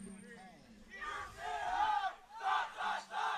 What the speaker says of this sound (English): You can hear the teams cheering.